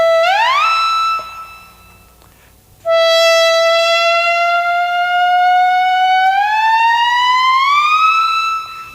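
A reedy tone from an Akai EVI/EWI electronic wind instrument glides upward with slow portamento, stops, then returns as a long held note that slowly slides up in pitch.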